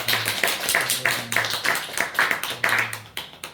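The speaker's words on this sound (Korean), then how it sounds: "박수로 환영합니다" A small church congregation clapping to welcome new contract holders, distinct rhythmic claps in a steady beat, close by, with a low hum underneath.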